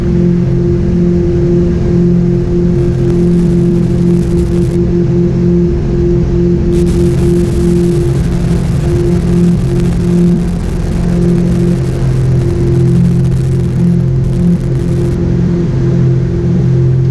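Piston aircraft engine at takeoff power, 42 inches manifold pressure, a loud steady droning roar heard from inside the cockpit for the whole stretch, no talking.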